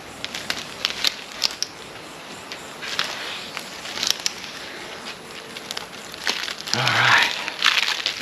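Masking tape and disposable gloves are bunched up by hand in a fiberglass workshop, close crinkling and crackling rustles in uneven bursts, growing denser near the end.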